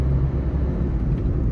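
A car engine on a highway just after the clutch is pressed and the car is shifted into third gear, heard as a loud, steady low rumble with road noise and no breaks.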